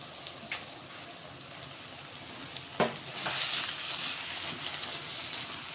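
Chopped tomatoes go into a hot pan of meal maker (soya chunk) curry with a brief clunk, and a steady, moderately loud sizzle of frying swells up and continues afterward. No one speaks.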